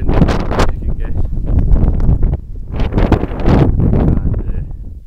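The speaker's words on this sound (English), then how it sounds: "The wind's picking up" Strong wind roars across a mountain peak, buffeting the microphone in loud, uneven gusts that swell and ease, with a short lull in the middle and no voices.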